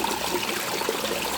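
Water trickles and splashes steadily over a rock in a small garden water feature, a continuous close babbling wash with no other sounds.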